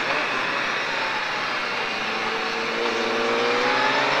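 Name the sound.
Triumph Daytona 675 motorcycle accelerating on race track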